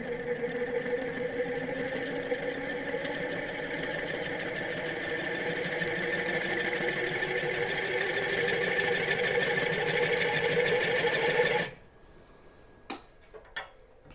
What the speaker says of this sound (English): I'm just going to apply the wheel. It starts to spin, little pressure, and slowly pull out.